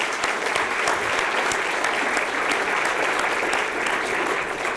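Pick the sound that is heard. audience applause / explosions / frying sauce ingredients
audience applause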